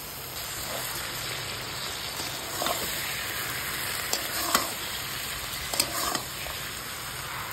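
Malabar spinach and ridge gourd fry with a fish head in a pan, giving a constant dense sizzle and crackle, with occasional louder pops and stirring scrapes; nobody speaks.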